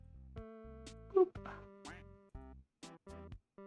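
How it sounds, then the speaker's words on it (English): Cartoonish duck quacks woven into upbeat video game music from a game jam entry, a few short squawks popping over steady synth tones. "The duck sounds in the music are not going unnoticed."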